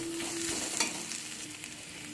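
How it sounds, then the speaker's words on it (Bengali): Onion, ginger and garlic sizzle and crackle steadily in a frying pan, a soft continuous hiss with occasional stirring scrapes, fairly quiet and without talk. "পেঁয়াজ, আদা, রসুন এখানে সব কিছু আমার ভালো করে ভাজা হয়ে গিয়েছে"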